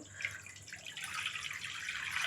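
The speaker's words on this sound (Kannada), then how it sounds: "ಒಂದು ಆ ಮೂರು ಸ್ಪೂನ್ ಹಿಟ್ಟಿಗೆ ಒಂದು ಚೊಂಬು ನೀರು ಹಾಕಬೇಕು" Water pours steadily onto ragi flour in a clay pot, a faint, continuous splashing rush that grows slightly fuller toward the end, with no talking.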